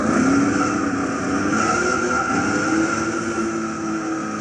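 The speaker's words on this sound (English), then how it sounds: "Does nice little burnouts." Engine roars steadily while tires squeal and screech in a sustained burnout by a 1970 Dodge Charger 440 R/T on sport hard tires in Gran Turismo 6 at Tsukuba, loud and continuous throughout.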